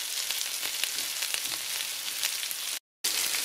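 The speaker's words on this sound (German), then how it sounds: "Wie ihr seht, leisten nun die Kartoffelscheiben der Zwiebel in der Pfanne Gesellschaft und wir brutzeln die jetzt lustig an." Potato slices and onion fry in a pan with a steady, dense sizzle and faint crackling pops. The sizzle runs unbroken, with one short dropout near the end.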